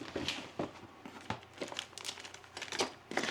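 Quiet, close snipping and crinkling as applique scissors cut through fabric, a series of short irregular snips over soft rustling.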